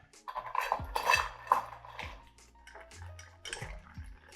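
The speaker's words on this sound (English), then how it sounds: "Give this a nice little stir." Cutlery stirring a gin and dry vermouth cocktail with ice, a run of close clinks and scrapes that come and go in a loose rhythm, with no talk over it.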